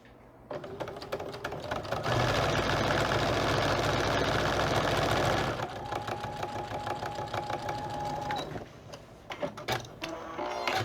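A sewing machine stitches a cat quilt block, running in one steady loud whirring burst for several seconds, then slowing into shorter, uneven stitching bursts with faint mechanical clicks, close by and without speech.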